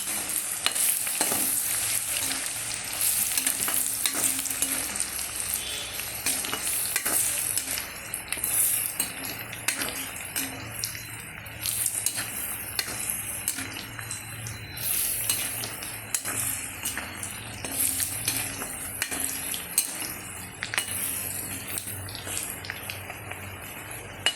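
Mango pieces fry in hot oil with a continuous, fairly quiet sizzle, while a ladle stirs and scoops them out with occasional soft clinks against the pan.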